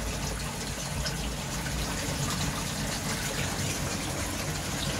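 Water gushes steadily out of a DIY koi tank filter during a media flush-out, a loud, continuous rushing and splashing with no talking.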